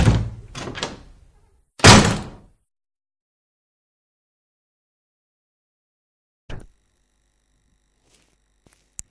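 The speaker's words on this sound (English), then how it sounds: "Number 8 is the 2010 with the new TARDIS, the door" The 2010 Doctor Who TARDIS door sound effect: a few clunky door thuds and a sharp slam close together, then silence and a single softer knock-like thump later.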